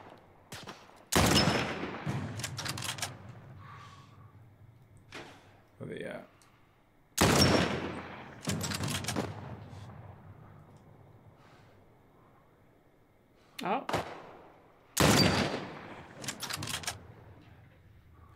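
Gunfire in the video game The Last of Us Part 1 comes as three loud bursts of close shots spaced several seconds apart. Each burst has a few sharp cracks followed by a decaying echo, with quieter stretches in between.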